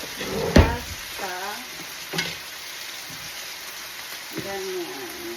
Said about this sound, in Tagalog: haluin lang natin yung pasta